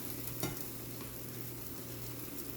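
Omelette eggs sizzle steadily in a hot pan with salsa, a continuous close frying hiss with a faint stir or scrape near the start.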